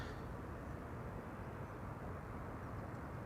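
GE90 engines on aircraft arriving at Amsterdam Schiphol Airport on a sunny day, a continuous, heavy low jet roar that holds steady and loud from start to finish.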